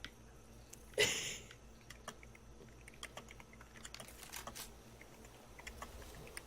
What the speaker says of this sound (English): Oh, lovely typing in the background.